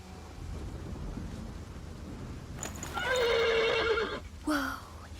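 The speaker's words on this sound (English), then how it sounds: "The horse nearly woke the guard." A horse in the medieval video game Pillars of the Earth gives a loud, close whinny with a falling pitch, followed by a shorter second neigh, over a steady background hiss like rain.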